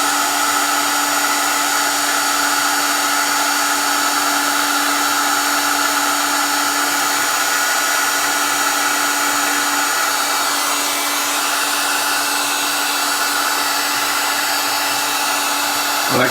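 A heat gun blows hard on a wireless phone charger during a teardown, a loud steady whirring roar with a constant tonal hum that runs unbroken throughout.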